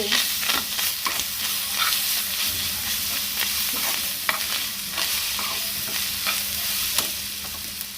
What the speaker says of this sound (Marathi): आपण याच्यामध्ये घालूया कैरीचा खीस आणि मिसळून